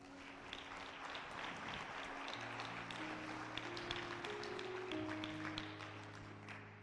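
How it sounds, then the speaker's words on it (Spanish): A church congregation applauds, a soft, steady patter of many hands held at low volume under sustained keyboard or organ chords, with no speech over it. "Dale un aplauso al Señor."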